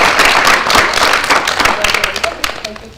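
An audience at a school board meeting claps in a brief burst of applause, loud at first and thinning out toward the end, with voices mixed in.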